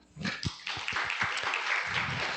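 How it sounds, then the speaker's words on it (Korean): An audience at a quantum R&D standards conference claps to welcome a speaker to the stage, starting with a few scattered claps that quickly build into steady, moderately loud applause. "큰 박수로 맞이해 주시기 바랍니다"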